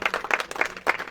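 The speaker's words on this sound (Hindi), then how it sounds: "इसलिए इन लोग के लिए जोर से ताली बजाओ" An audience at a morning Harikatha program in Nainital clapping, irregular bursts of hand claps close by, moderately loud and uneven in rhythm.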